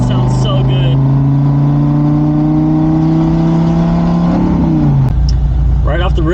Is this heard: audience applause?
no